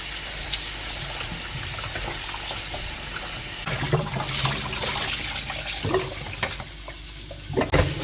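Raw chicken pieces being rinsed under a running tap in a sink, with a steady splashing rush of water throughout and some sharper splashes and clatter near the end.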